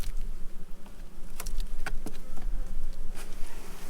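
Honey bees buzz around an opened hive during a colony split, a steady hum of insect wings with scattered brief clicks and taps from frames being handled.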